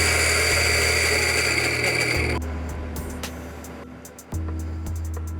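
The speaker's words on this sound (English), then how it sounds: "I'm gonna hop over on my grinder over here" An electric coffee grinder grinding about 19 grams of beans fine for an AeroPress, with a loud, steady whirring drone up close that shifts pitch and fades as the beans are ground down, then kicks up again.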